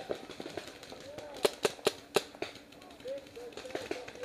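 Gunfire cracks out from woods in a handful of sharp, fairly quick shots, mid-distance, amid shouting voices and background noise.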